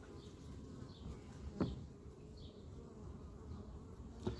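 Honey bees buzz faintly and steadily in the background, with a couple of brief soft knocks or clicks.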